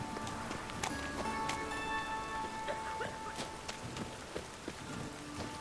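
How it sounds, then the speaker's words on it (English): Steady rain falls in the video game Witcher 3, a constant soft hiss scattered with small drips and light ticking patters, with no voices over it. "It just rains and rains."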